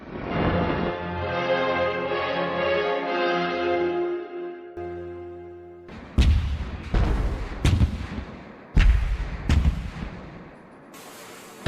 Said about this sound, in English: the big guns of the US warships began a massive artillery barrage onto the Kuwaiti coastline.